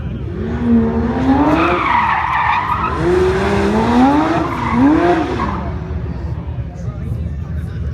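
At a modded car meet in Detroit, a race car's tires squeal and skid in long wavering screeches, loud and close, while people talk nearby.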